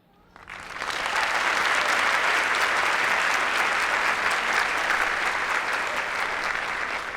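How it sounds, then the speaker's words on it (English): Loud, dense applause from a graduation ceremony audience for a Master of Public Health class, rising quickly and holding steady as a continuous wash of clapping close by. "give ourselves a round of applause to the faculty members, family, and friends who supported us"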